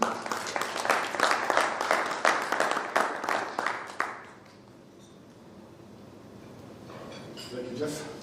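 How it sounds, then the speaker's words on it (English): Audience applause at a Kenyan AI discussion event as the board chair comes on stage: a burst of clapping for about four seconds that stops abruptly, leaving a quiet room with faint shuffling. "And a round of applause for our chair"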